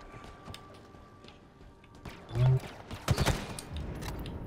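Gunfire from a weapon in Halo Infinite, a deep thump followed by a short cluster of sharp, loud shots over low game background noise.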